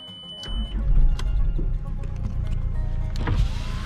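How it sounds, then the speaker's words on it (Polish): The electric window of a Volkswagen Sharan 1.9 TDI lowers with a steady motor whir over the idling diesel engine, close and continuous for several seconds. "Szyba w dół."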